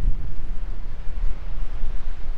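Steady wind in the Australian outback buffets the microphone with a low, rumbling roar that rises and falls in gusts, loud and close, with no other sounds.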